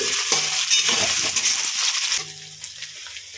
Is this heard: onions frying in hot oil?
yes